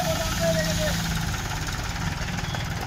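Mahindra 265 Power Plus tractor fitted with a front loader and a 5-quintal weight, its diesel engine idling steadily with a low, even knocking throb close by throughout.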